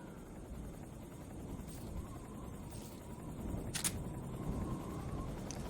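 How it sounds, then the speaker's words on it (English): A helicopter patrols in the video game Metal Gear Solid 3: Snake Eater, its faint, steady rotor drone heard at a distance under the game's ambient noise. "is this helicopter patrolling the area?"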